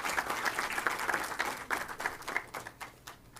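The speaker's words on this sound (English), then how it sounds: "So I think a big round of applause for that." Audience applause at a stock-market trading event, a dense run of clapping with sharp individual claps that gradually thins and fades toward the end, heard alone without talk.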